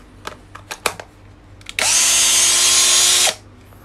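A cordless power drill, a used Japanese tool, gets a few light clicks and handling taps, then whirs loudly at steady speed for about a second and a half before stopping.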